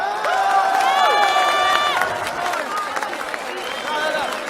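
A large crowd cheers and applauds at a CS:GO World Championship 2016 semi-final esports match between Denmark and Argentina, a steady roar of clapping and shouts with voices and whistle-like calls rising over it throughout.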